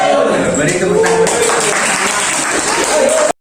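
Classroom of students breaking into a short burst of clapping, dense and close, lasting about three seconds before stopping abruptly.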